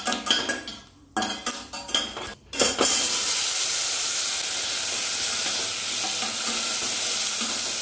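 Cutlery clinks and scrapes against a steel pan with a layered sandwich bottom on the stove during breakfast cooking, then a loud, steady sizzling hiss takes over and continues close by without any talking.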